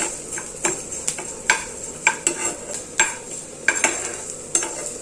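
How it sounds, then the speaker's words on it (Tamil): Black urad dal and chana dal roasting in a pan, stirred with a utensil in regular scraping strokes about twice a second over a soft steady dry sizzle, close and fairly loud. "இப்போ நம்ம கருப்பு உளுத்தம்பருப்பையும் இந்த கடலைப்பருப்பையும் வறுத்துடலாம்."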